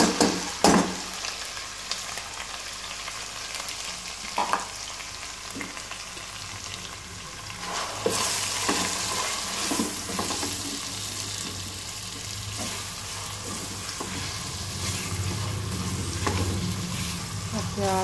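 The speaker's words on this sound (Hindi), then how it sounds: "मैं प्याज फ्राई कर रही हूँ" Onions frying in a pan with steady, loud sizzling and repeated scrapes of a stirring utensil over about eighteen seconds, the sizzle growing fuller partway through, with no talk.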